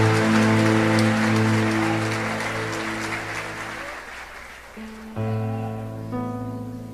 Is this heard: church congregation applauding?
yes